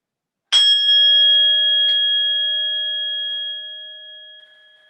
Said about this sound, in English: listening to that chime.